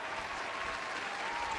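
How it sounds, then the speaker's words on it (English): Canned applause from a clap track played during a podcast intro, a dense steady burst of many hands clapping at even loudness throughout, with no voices over it. "Let me get the freaking clap track in here"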